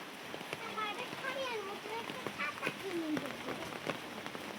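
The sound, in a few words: rain falling on a muddy path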